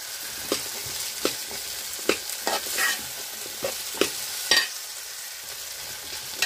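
Green mango pickle being stirred in a pan, with a series of scraping strokes and a gentle sizzle underneath, close and fairly quiet.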